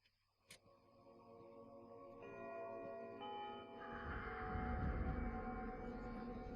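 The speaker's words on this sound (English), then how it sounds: "Imagine the last thing you hear on this earth being Westminster chimes." Westminster chimes ring from a clock bell in Eternal Darkness, sustained tones entering after a soft tick and swelling into a rich, resonant ringing wash.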